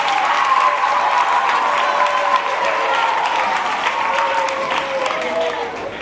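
A crowd applauds the seated candidates at the opening ceremony of an inter-school mental arithmetic contest, hosted at CNA Saint-Paul. Sustained, fairly loud clapping runs throughout with some cheering mixed in and a faint tonal sound beneath.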